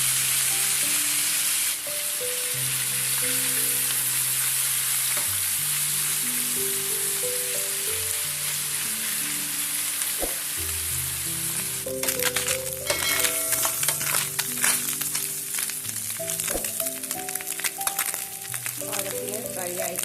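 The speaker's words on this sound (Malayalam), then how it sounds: "ഈ നത്തോലി ഫ്രൈ ചെയ്തെടുക്കാം" Anchovies fry in a generous amount of coconut oil in a saucepan, giving a steady hiss and sizzle with crackling bursts, heard beneath continuous background music.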